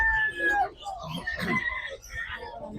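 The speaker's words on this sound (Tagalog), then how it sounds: "O, ayan, mga inahin." Hens clucking and a rooster crowing nearby at a pet market, with a person talking over the birds throughout.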